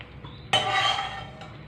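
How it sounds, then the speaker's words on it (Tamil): A ladle stirs thickening Mysore pak in a pan on the stove as ghee is added a spoonful at a time, a sudden close scraping clatter of metal on the pan that rings briefly and fades, with no talk. "நெய் விட்டு விட்டு கிண்டிக்கணும்."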